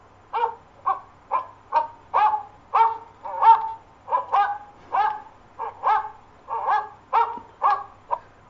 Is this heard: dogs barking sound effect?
yes